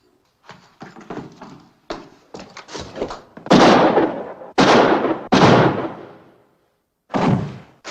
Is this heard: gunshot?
yes